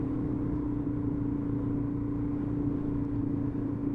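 A Suzuki DRZ400 motorcycle with an aftermarket exhaust idles steadily nearby, a low, even engine drone with a faint hum and no speech.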